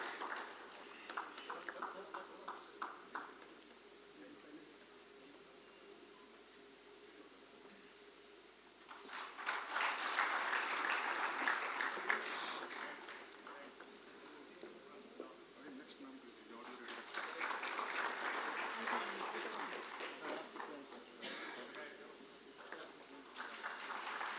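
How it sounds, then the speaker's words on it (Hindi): An audience at the Atal Mithila Samman 2019 award ceremony applauds, with two long, soft waves of clapping that sound distant and faint, separated by quieter stretches. "तालियां"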